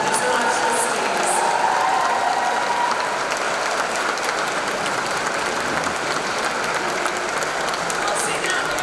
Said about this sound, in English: Let's give a big round of applause to show our appreciation.